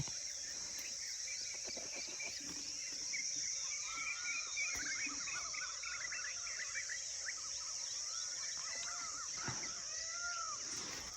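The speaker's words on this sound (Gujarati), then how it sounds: "પક્ષીઓનો અવાજ આવે છે." Birds chirp and tweet in quick scattered bursts around a farm in the morning, fairly faint over a constant high insect drone, with no one speaking.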